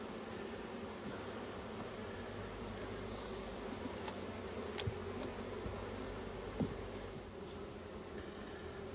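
Steady drone of many honey bees at a small nucleus hive, continuous and fairly quiet, broken by a couple of brief clicks or knocks near the hive.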